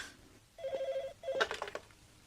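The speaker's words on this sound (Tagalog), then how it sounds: "Telepono." A telephone rings in two bursts of electronic trilling, fairly clear and close, followed by a brief clatter as the handset is picked up; no one speaks over it.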